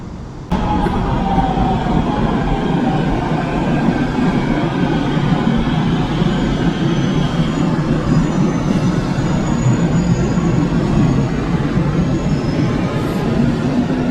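A subway train pulls into a station on the Busan metro near Haeundae, South Korea: a loud, steady rumble of wheels and carriages that runs unbroken throughout, with faint high squeals riding above it.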